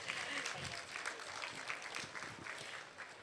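An audience at a business expo opening ceremony applauds, producing a faint, continuous patter of clapping in a large hall, mixed with voices and crowd murmur.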